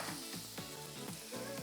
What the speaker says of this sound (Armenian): եթե կարագը տաք թավայի մեջ ենք անում